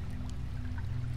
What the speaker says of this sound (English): Got another waterfall. A cascade of corrosive acid is a sign that I can't stay here any longer.